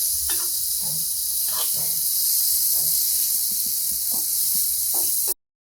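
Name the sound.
bitter gourd frying in a pan while stirred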